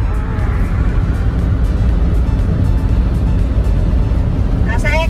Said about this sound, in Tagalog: Nasa expressway kami, guys, kaya ganito kabilis.